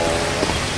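Steady heavy rain pouring down in a dense, constant hiss that fills the whole moment, loud and close with no voices.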